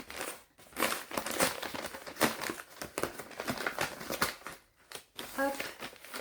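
Small paper envelope being opened, bursts of close crinkling and rustling paper handled continuously with brief pauses, a voice briefly present.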